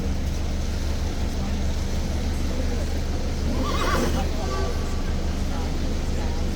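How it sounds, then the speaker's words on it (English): Police horses on a trailer whinny in the distance over a steady low rumble of London traffic on a rainy day, with a louder neigh rising briefly midway. "the horses were neighing and that horse responded"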